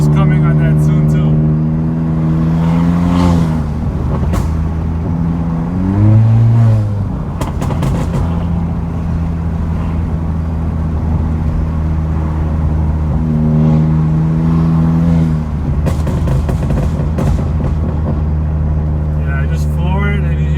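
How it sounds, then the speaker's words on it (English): A 2018-2020 Honda Accord Sport 1.5T turbo with an aftermarket intake, floored so the engine drone climbs in pitch, with a few sharp exhaust pops; voices talk over the steady cabin roar. "Yeah, I just floor it and you hear pops."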